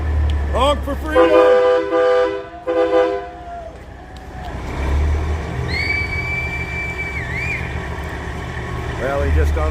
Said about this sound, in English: Honk for freedom!